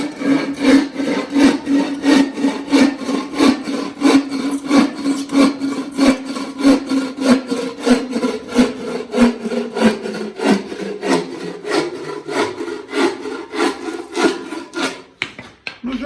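A hand saw with freshly set teeth cuts through wood in quick, even push-pull strokes, loud and close, about thirty rasping strokes that slow and break off near the end, with no talk.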